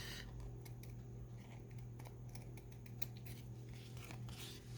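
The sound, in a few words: scissors trimming and rounding off a card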